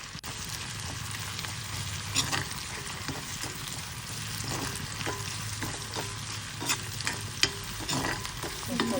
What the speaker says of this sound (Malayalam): ചെറിയ ഉള്ളി മുറുക്കിയിട്ട് പച്ചമുളകും കറിവേപ്പിലിട്ട് നല്ല ചുമന്ന കളറാവുന്ന വരെ ഒന്ന് വഴറ്റിയെടുക്കാം.